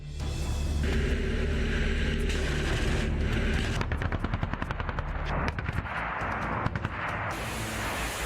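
Machine-gun fire and bursts of gunshots from war combat in Donbas, loud and sustained in rapid rattling volleys with rumbling background, no speech.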